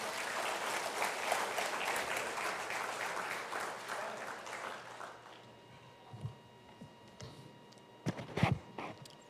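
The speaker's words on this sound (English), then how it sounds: "let's welcome, with a round of applause, Mr. Kevin Ramnarine" A town hall audience applauds as Kevin Ramnarine, a former Minister of Energy, is welcomed: dense clapping from a large crowd that thins out midway, leaving scattered claps and light room noise.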